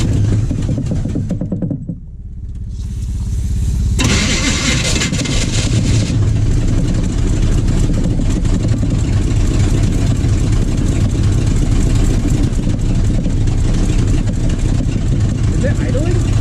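1980 Chevy K30 truck engine cranking and firing up in a blizzard, then settling into a loud, steady rumbling idle that fills the rest, with people talking over it.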